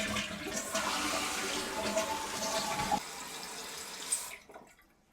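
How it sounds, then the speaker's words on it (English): A toilet fitted with a repaired Korky fill valve flushes close by, a loud swirling rush of water that drops off after about three seconds into quieter refilling trickles before fading out. "Let's flush it and see what it do now."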